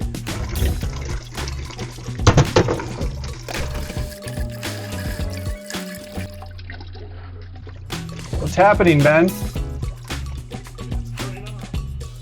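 Water surging and sputtering through camper plumbing fed from an isolated water heater in a converted ambulance, with irregular splashes and spraying bursts under people talking.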